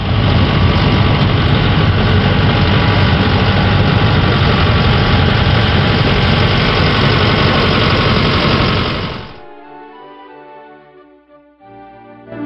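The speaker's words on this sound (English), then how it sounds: "A bulldozer moves dirt." A bulldozer engine runs loud and steady with a dense rumbling drone for about nine seconds, then cuts off abruptly and gives way to a short tonal jingle.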